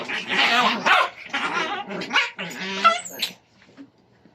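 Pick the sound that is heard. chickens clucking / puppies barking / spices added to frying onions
puppies barking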